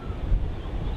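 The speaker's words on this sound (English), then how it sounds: "Oh, that wind is cold." Cold wind gusting at Melbourne Airport, a low rumbling buffet against the microphone that holds steady for about a second, with no voices.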